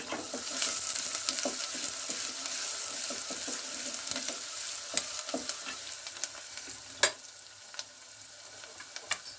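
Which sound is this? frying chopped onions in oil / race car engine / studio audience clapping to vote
frying chopped onions in oil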